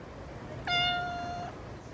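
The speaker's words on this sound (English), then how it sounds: "It's hard to focus when you have a cat screaming at you non-stop." A calico cat lets out one loud, drawn-out meow, close and alone over a quiet room, lasting under a second.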